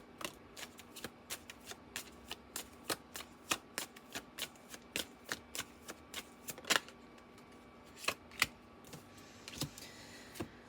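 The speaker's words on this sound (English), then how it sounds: "let me get one more card" Cards drawn one by one from a deck, producing crisp, sharp snaps and flicks at irregular intervals, fairly close and clear against a quiet background.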